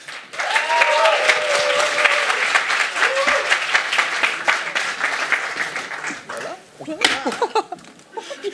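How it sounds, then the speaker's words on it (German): Warm applause rises from the audience at a science slam in Freiburg as a speaker is called to the stage, with a presenter's voice over it early on; the clapping fades out near the end. "Und mit grossem Applaus bitte auf die Bühne"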